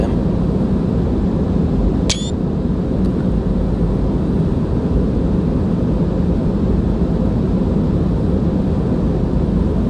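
Steady deep engine roar of an Airbus A320 in Microsoft Flight Simulator on departure from Goa, a loud continuous rumble with one brief sharp chirp early on, no speech.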